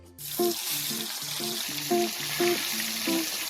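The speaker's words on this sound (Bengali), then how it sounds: "এইখানটাতে দেখো ইলিশ মাছ ভাজা হচ্ছে" Hilsa fish frying in a pan at home, a constant close sizzle and spatter with a simple stepping melody playing underneath.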